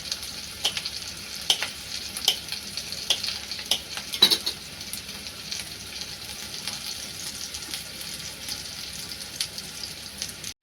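Onion and chili fried and stirred in a pan for a village wild-greens dish: steady sizzle with repeated scraping stir strokes, close and moderately loud, no talking.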